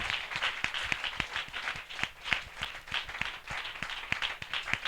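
Congregation at a church spiritual assembly claps steadily, a fairly faint, rhythmic patter of hands with distinct sharp claps standing out at regular intervals throughout.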